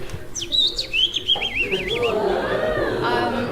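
A person whistles and warbles high chirps imitating a bird, trilling briefly before the sound settles into a lower voiced murmur.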